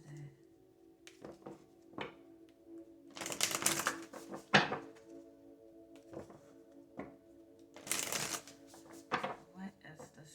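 Tarot cards being shuffled, several separate bursts of riffling and cascading cards with soft thunks of the deck between them, close and moderately loud.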